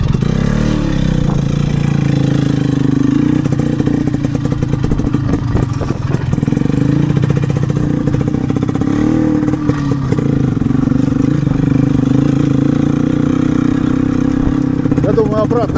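An IZh motorcycle engine runs close by with a clattering, uneven chug that swells with revs throughout, while voices talk over it.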